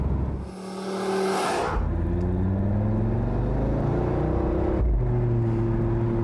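An Audi TT RS with its exhaust switched to sport mode: a brief loud blare, then a steady close engine drone with a rising, harmonic exhaust note and a short dip midway, no talking.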